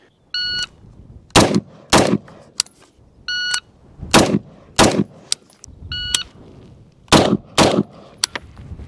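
Sharp, loud rifle shots from a Sig SPEAR LT or Geissele Super Duty crack in quick groups of two or three, each string preceded by an electronic shot-timer beep, about nine shots in all.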